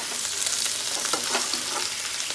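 Tomatoes sizzle and fry with potatoes and flat beans in a pan, a steady dense hiss with soft scraping of stirring, close and continuous without speech.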